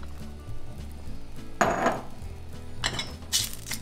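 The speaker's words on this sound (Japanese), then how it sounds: "で火にかけてフライパン軽く熱します。 で、トマト一気に入れます。" Tomatoes tipped all at once into a frying pan of lightly heated extra virgin olive oil, giving a few clattering pan knocks and a sudden burst of sizzle, then quieter handling sounds.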